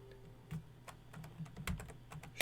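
Keys clatter on a computer keyboard as a command is entered into a Cisco ASA firewall configuration, a sparse series of separate clicks and short bursts with pauses between, close and fairly quiet over a faint steady hum.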